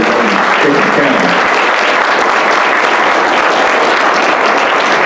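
A crowd applauds steadily at a nonpartisan community candidate forum in Pickens County, Georgia, with dense, sustained clapping filling the room and voices faintly mixed in beneath it.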